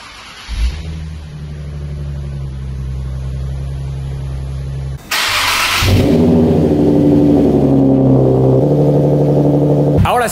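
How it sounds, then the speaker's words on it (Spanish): A Nissan 370Z fitted with a new MagnaFlow exhaust idles with a steady low rumble, then is blipped into a loud, sustained rev that holds high and raspy, close to the tailpipes with no talking. "vamos a darle unos aceleroncitos, ya calentó el motor"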